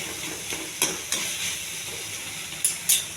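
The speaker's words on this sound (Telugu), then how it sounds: "ఈ టమాటాలు వేసి బాగా వేగనివ్వాలి" Tomatoes fry in a pan for a chutney, giving a steady sizzle broken by a few sharp spits and pops, close and alone with no talk.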